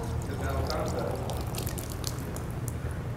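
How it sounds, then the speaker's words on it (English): Water poured into an already full glass and spilling over, a soft trickling and dripping under room noise with some faint speech. "What happens if I keep attempting to put water into this glass?"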